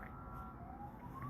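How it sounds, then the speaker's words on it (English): A faint siren wails in the distance, its rising tone drifting beneath a low, steady background rumble. "That's just a siren."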